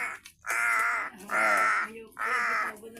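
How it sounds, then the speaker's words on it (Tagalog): A pet crow caws three times in a steady rhythm, each call long, harsh and loud, heard close by with nothing else around it. "Yan po ang aming alagang uwak, si Noy."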